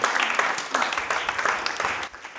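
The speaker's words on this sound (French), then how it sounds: "Est-ce qu'on peut acclamer le Seigneur?" A church congregation claps and cheers in praise, a short, dense burst of applause that swells and fades slightly.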